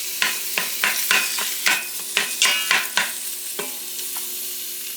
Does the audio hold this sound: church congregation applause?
no